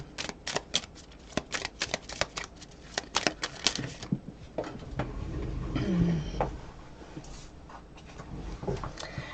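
A new Lenormand card deck being shuffled by hand, with quick repeated papery riffles and flicks for about four seconds, then softer sliding and rustling of the cards, close and clear.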